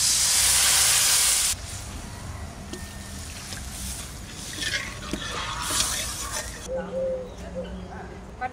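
Water poured into hot spiced oil in a pan, a loud burst of hissing sizzle that drops after a second or two into a steady bubbling simmer, with a voice speaking briefly in the background.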